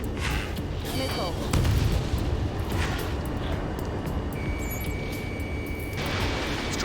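A missile launch and heavy booms in Ace Combat 7 aerial combat, a rumbling blast early on with sustained roar and a thin tone later.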